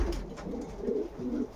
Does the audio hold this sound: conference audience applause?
no